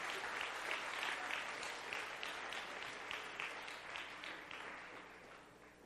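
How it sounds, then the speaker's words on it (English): An audience claps together after a computer science class competition, a dense patter of many hands that holds steady then gradually thins, heard at a moderate distance and fairly quiet. "let's give a huge round of applause to everyone"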